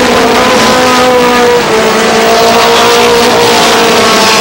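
Race cars roar loudly around a speedway, a dense, sustained high-revving engine drone with layered tones from several cars, close and continuous.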